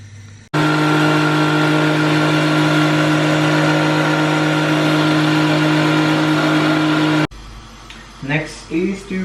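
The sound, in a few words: blender running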